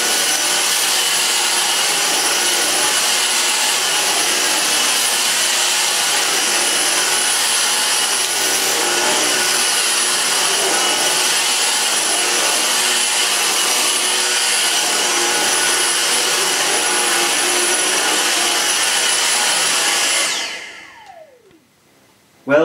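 A Dyson vacuum cleaner runs steadily on carpet with a loud, constant motor whine and airflow roar for about twenty seconds, then cuts off and winds down abruptly near the end.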